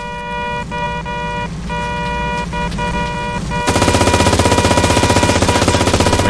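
Gunfire with ricocheting bullets rings out in the video game CRSED: F.O.A.D.; a loud, rapid automatic rattle starts partway through and keeps going over a steady tonal drone from the game.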